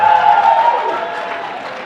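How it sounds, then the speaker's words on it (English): An audience at a Magic: The Gathering Legacy tournament round in Vegas cheers and claps, a dense, loud burst of crowd noise that gradually eases over two seconds, with a voice faintly mixed in. "We have some cheering in the background"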